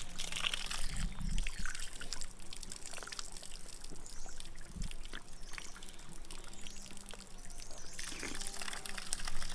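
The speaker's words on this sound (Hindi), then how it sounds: "बिल्कुल भाई नेचुरल पानी है, और पहाड़ों में तो ठंडा ठंडा पानी रहता ही है" Cold natural mountain water from the Uttarakhand hills pours and trickles steadily nearby, a continuous splashing flow with small spattering bursts, and no one speaks over it.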